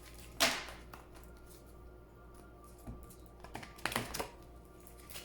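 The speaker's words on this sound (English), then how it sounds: "Please think of your question as I shuffle the cards." Oracle cards being shuffled by hand, two brisk riffling bursts separated by quieter soft rustling and small taps, close and fairly faint, no voices.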